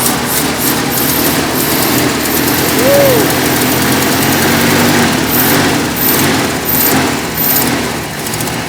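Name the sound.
1972 Ford F250 390 V8 engine running on carburetor fuel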